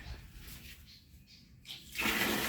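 Water bursts from a strong shower in a campsite shower room, a sudden broad hiss that switches on near the end after a brief quieter stretch.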